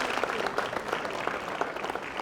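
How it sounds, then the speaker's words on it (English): Steady applause from a studio audience at a televised debate show, dense and even throughout, close and fairly loud, without talking. "A round of applause for him,"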